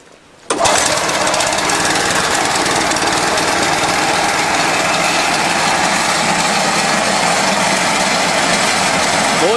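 A Struck MD50 mini dozer's engine catches suddenly after a brief quiet and settles into a loud, steady, rapidly knocking idle that runs unbroken to the end.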